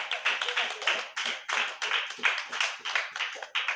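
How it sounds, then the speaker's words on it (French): A church congregation claps for the Lord, a loud, close run of rhythmic hand claps in a steady beat with no talk over it. "Nous applaudissons pour le Seigneur"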